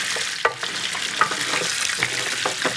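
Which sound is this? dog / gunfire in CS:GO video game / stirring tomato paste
stirring tomato paste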